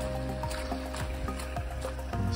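Splashing, squelching footsteps wade through a river crossing during the Cheviot Goat 2022 hill ultra, with a rhythmic slosh over steady rushing water close by.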